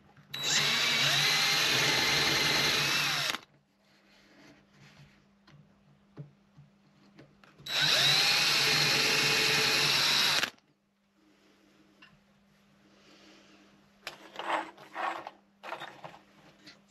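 A power drill drives screws into a wooden slatted shelf in two loud, sustained whirring bursts of about three seconds each, followed by quieter clicks and handling noises.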